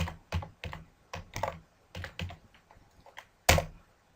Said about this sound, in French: je tape un mot de passe